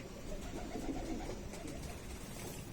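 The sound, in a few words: Kasni pigeons cooing in a loft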